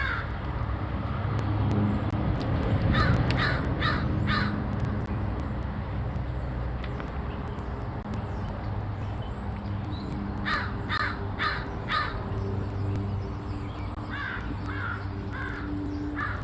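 Crows caw repeatedly in bursts of four or five harsh calls, some close and some farther off, over steady outdoor background noise from passing road traffic, with other songbirds such as chickadees and scrub jays nearby.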